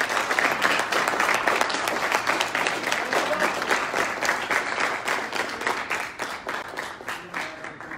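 Sustained round of applause from an audience at an Army JROTC military awards ceremony, a dense, even wash of many hands clapping close by, tapering slightly toward the end, with no talking.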